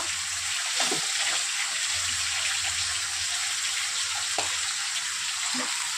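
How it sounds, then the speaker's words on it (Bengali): Ginger garlic paste fries with potatoes and onions in a pan, giving a moderate continuous sizzle punctuated by a few sharp stirring scrapes, close and without speech. "আদা রসুন বাটা দিয়ে একটুখানি নাড়াচাড়া করে নেব"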